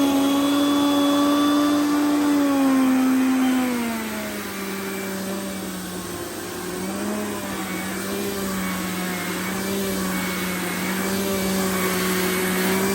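A Shark Stratos vacuum cleaner runs steadily with a loud motor whine that drops in pitch partway through as the load changes, continuous and close with no talking.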